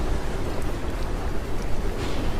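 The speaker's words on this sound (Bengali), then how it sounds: "বৃষ্টির বেগ একটু কমেছে।" Rain falls on a stormy night as a dense, steady hiss that holds at an even level throughout, with no voices.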